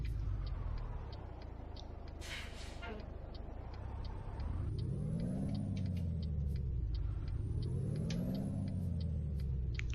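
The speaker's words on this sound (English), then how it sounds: "Talk about engine rev." Truck engine in American Truck Simulator rising and falling through repeated revs, a steady close rumble with ticking in the background and a voice talking over it.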